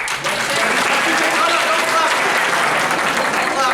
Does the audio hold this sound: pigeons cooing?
no